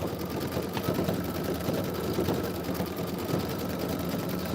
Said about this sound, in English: We are 13 minutes into a 30-minute stitch out.